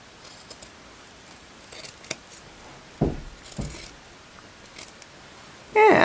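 Scissors snip through the shoulder seam of a garment with sparse, close clicks and crunches of the blades, a few sharper cuts standing out in an otherwise quiet room.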